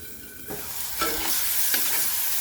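Onion frying in a pan gives off a close, steady sizzle that swells as it is stirred, with a few faint scrapes along the way.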